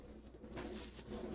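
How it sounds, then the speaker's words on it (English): Birds call nearby, with low, soft, dove-like cooing repeated over a steady murmur of background noise and no talking. "That chirping."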